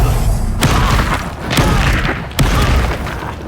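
Stupefy spell cast in Hogwarts Legacy, three loud booming magical impacts with whooshing, crackling effects between them.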